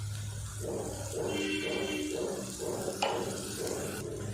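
Masala spice powder sautéed in a pan on a low flame, soft steady sizzling with rhythmic scraping strokes of a spoon and one sharp clink partway through.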